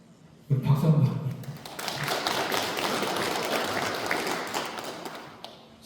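A congregation at a Won Buddhist Sunday service bursts into applause, starting with a few sharp claps and then settling into steady, moderately loud clapping that fades near the end.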